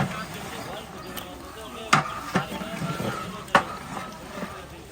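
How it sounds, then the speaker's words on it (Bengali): Shrimp are stirred in a spice paste, a soft sizzle broken by a few sharp spoon-on-pan knocks and scrapes, moderately close, with quiet voices in the background. "ওই চিংড়ি মাছটা ওই মশলার ভিতরে দিয়ে কিছুক্ষণ নাড়াচাড়া করে দেওয়া হলো"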